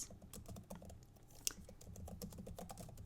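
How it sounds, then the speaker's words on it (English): Loud, rapid keystrokes on a computer keyboard in a quiet room, a steady irregular clatter running throughout with one sharper tap standing out midway. "I don't know if you can hear my loud typing"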